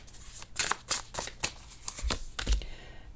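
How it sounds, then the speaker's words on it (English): Tarot cards being shuffled by hand during a love reading: a quick run of crisp riffling and flicking bursts, close and fairly loud, with no talking. "Let me just shuffle a little bit more."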